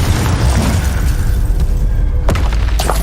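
A Confringo blasting spell goes off in a video game with a loud, booming explosion that fills the clip, followed by a sharp crack and a shattering burst near the end.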